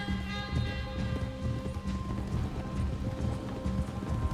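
Horse hooves galloping in Red Dead Redemption 2, a steady rapid clip-clop running throughout at moderate loudness over game music and ambience.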